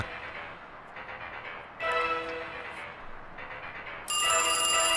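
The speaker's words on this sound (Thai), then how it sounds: "อ่ะโทรศัพท์ดัง" Telephone ringing inside a horror video game set on a rainy night, an electronic bell sounding in repeated bursts with short pauses, the last burst louder and brighter, no talking.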